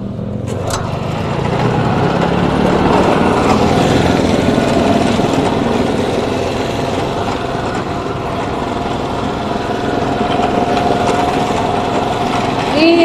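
A small pull-cord started engine runs continuously with a steady buzzing drone, loud and close, with some speech briefly audible near the start.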